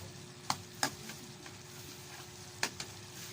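Pineapple syrup simmers quietly in a pan, a soft bubbling hiss broken by a few sharp clicks and taps of a utensil against the pan.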